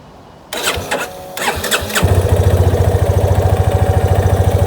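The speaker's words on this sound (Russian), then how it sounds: "Заводим, греем, прогреваем до рабочей температуры." A 2021 Yamaha FZ25 motorcycle cranks with a brief starter whir, catches and settles into a loud, close, steady idle with an even pulsing beat as it warms up.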